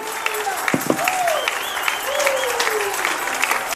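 Continuous crowd applause at a sermon, with whistles and shouts rising above the clapping, steady and fairly loud the whole time.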